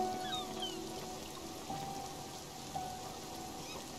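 Steady rain patters and hisses in the Spiritfarer video game, a soft continuous wash with a few faint tonal chimes over it and no talking.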